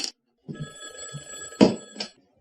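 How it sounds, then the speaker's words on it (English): A black telephone on a small table in a Twin Peaks TV scene gives two short ringing bursts, separated by brief sounds of movement, fairly close and clear, with no speech. "I'm going to transfer to the phone on the table by the red chair."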